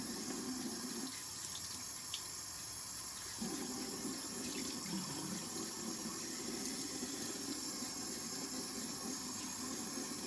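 Water runs from a tap into a sink during face rinsing after makeup removal, a steady hiss with a brief break early on before the flow resumes, close and continuous with no talking.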